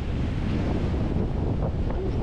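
Strong wind buffets the microphone at Cape Kolka, Latvia, over steady surf and crashing waves from the open sea, a loud continuous roar throughout with a faint voice briefly audible under it.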